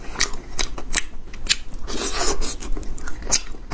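Close, crisp crunches of biting into a filled chocolate snack with popping pearls inside, several sharp bites spread across a few seconds over faint background noise.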